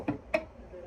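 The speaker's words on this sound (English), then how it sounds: "guitar percussion in there between the riff" Two quick, dry percussive taps on a guitar body, close and fairly quiet, followed by a faint ringing tail.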